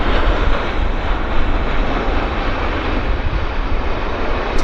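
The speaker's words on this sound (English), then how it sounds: "Decent landing" An airplane lands at Vancouver Airport with a loud, steady, broadband engine roar that fills the whole stretch and holds a constant level without a break.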